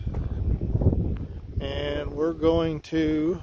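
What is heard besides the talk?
wind blowing into the microphone outdoors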